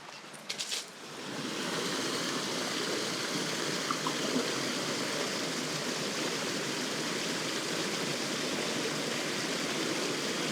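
Loud, steady rush of a babbling brook or waterfall beside a remote Montana sheep camp, a dense continuous water roar filling the whole stretch after a brief soft start, with no voices.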